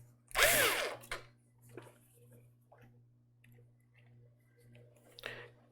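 A power screwdriver drives screws into a motherboard in a PC case: a short loud burst of motor whir, then a second brief spin, with soft clicks and handling noises and a quieter whir near the end.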